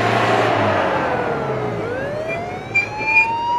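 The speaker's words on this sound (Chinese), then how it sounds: "救护车来了没有？ 来了。" An ambulance siren wails in a TV drama scene, its tone sliding and shifting as the vehicle draws near over street noise, fairly loud and without speech.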